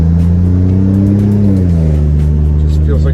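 An Alfa Romeo Giulia Quadrifoglio, a car with suspension issues, on a test drive: a loud, steady engine drone with rising and falling tones from inside the car, voices faint underneath.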